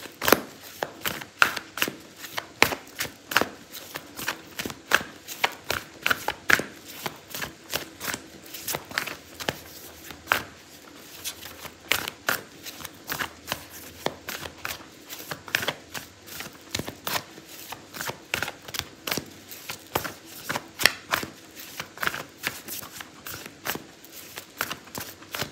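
Tarot and oracle cards are shuffled close by, with quick irregular riffles and soft slaps of cardstock continuing for the whole stretch.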